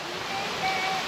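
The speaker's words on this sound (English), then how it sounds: "These are the falls." Bonita Falls, a waterfall in California's San Bernardino National Forest, gives off a continuous rushing roar of falling water, close and steady, filling the whole moment without pause.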